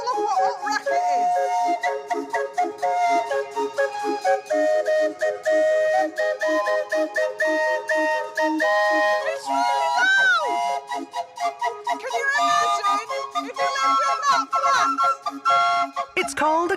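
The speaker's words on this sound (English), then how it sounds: "Its whistles are powered by steam" A steam calliope on a cruise in the USA plays a whistling tune of bright, piping steam-whistle notes with sliding pitches, loud and close, with chatter and crowd sounds underneath.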